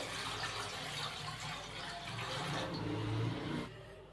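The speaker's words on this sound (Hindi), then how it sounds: "पतीले के अंदर हम सबसे पहले पानी शामिल करेंगे, तकरीबन 1 से 2 लीटर।" Tap water runs into a large cooking pot, about one to two litres, a continuous splashing fill that rises slightly in pitch and loudness before stopping abruptly near the end.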